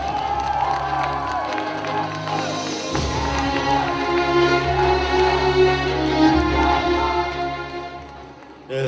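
A large crowd at a party convention in Gwangju applauds and cheers to welcome a speaker, loud sustained clapping mixed with shouts and whoops, swelling toward the end.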